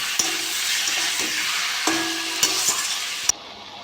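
Lote fish frying in hot oil in a pan, a steady loud sizzle with a few sharp scrapes and clinks of a spatula as the pieces are stirred, ending abruptly.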